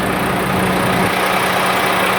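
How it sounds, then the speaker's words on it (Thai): A Volvo B11R bus engine idles up close, a loud, steady rumbling drone with constant vibration and no talk. "มาดูเครื่องยนต์ฮะ"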